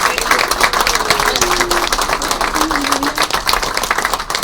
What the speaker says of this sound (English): can we give the families a round of applause for all they do to make this happen?